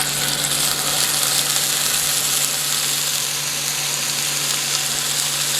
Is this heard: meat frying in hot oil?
yes